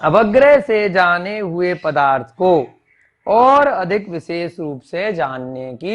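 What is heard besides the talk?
No distinct noise like a dog, phone or traffic.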